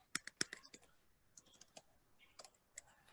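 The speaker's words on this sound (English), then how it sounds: "because I'm typing this in such a crazy way" Keys on a computer keyboard are typed in quick, irregular bursts of sharp clicks, faint and close, with short pauses between strokes and no talking.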